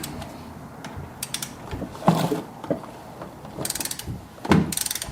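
Ratchet clicking while loosening driveshaft bolts on a Dodge Challenger, with irregular bursts of quick mechanical clicks and creaks, fairly close and moderately loud, with no one talking.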